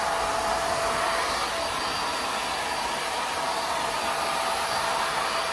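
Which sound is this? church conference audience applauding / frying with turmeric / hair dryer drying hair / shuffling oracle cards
hair dryer drying hair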